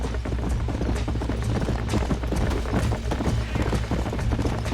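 Horse hooves clip-clop in a fast, steady rhythm of close, dense hoofbeats on a ranch in Red Dead Redemption, several horses running together with no talk over them.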